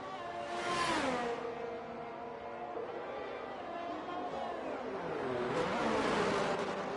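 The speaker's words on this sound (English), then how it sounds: "loving the sound of his Ferrari engine and the Haas car for Division 2" Ferrari-engined Haas Formula 1 car in a racing video game, its high-pitched engine sweeping up through the gears in two loud passes with a whooshing rise near the start and end, no talk over it.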